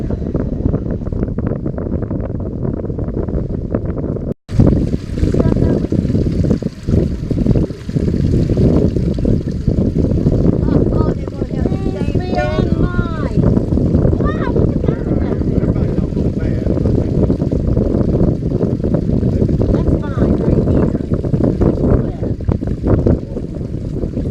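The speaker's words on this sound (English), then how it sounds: "This is the kind of wind we want blowing into the bank when we're trolling for walleye" Strong wind blows over Pomme de Terre Lake while trolling for walleye from a pontoon, a loud continuous roar of microphone buffeting and lapping water throughout, with voices talking faintly underneath.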